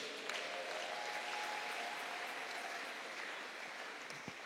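Church congregation at a Sunday service applauding, a steady, soft wash of many hands clapping together for several seconds, heard from a distance with no talking over it.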